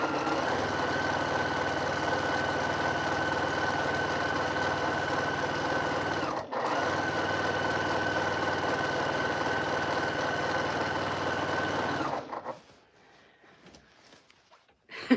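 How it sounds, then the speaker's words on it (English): A home sewing machine hums along steadily while quilt blocks for a Quilt of Valor are stitched. The drone is loud and continuous, with a brief dip around six seconds, then it stops abruptly near the end, leaving quiet. "I love hearing the hum of the machine just humming along"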